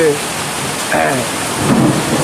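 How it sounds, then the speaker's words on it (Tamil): Heavy rain hisses steadily outdoors during the monsoon season, with low rumbling thunder rolling under it and a faint voice in the background. "கடுமையான இடி இடிக்குது மழை சாரல்"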